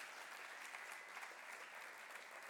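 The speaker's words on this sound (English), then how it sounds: "it's a round of applause." Sustained round of applause from an audience at an awards gala, a dense, even wash of many hands clapping, steady and moderately distant, with no break in the clip.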